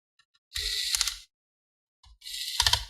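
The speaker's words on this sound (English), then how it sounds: "I'll use my automatic screwdriver." An automatic electric screwdriver unscrews retained cover screws on an HP G4 laptop in two short whirring bursts, close and mechanical, with a pause between them.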